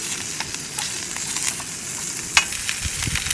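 Sausage sizzles and crackles steadily in a pan on a new camp cook stove outdoors, close and fairly soft, with occasional scrape and pop.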